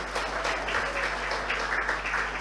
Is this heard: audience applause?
yes